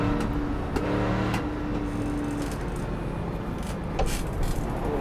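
Race cars in the iRacing video game: a steady engine drone holds throughout, with a sustained motor tone early on and a few sharp clicks and bursts later, moderately loud with no talking.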